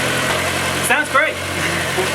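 Fiat Panda 100HP TJet engine idling steadily up close, a constant mid-pitched hum with a couple of brief bumps in level, no talk.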